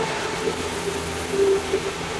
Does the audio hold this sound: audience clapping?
no